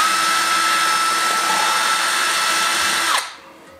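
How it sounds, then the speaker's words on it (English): Power drill boring out a stripped threaded hole before fitting a Helicoil insert, a loud steady whine held for about three seconds, then spinning down and stopping. "The next thing we do is drill out our hole."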